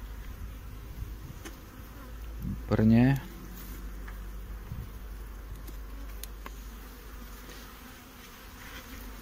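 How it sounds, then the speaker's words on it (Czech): A honeybee colony in a backup hive nucleus drones steadily throughout a spring inspection of overwintered hives in Brno, with a short spoken word cutting in over the continuous buzzing. "To záložní včelstvo nebo záložní oddělek,"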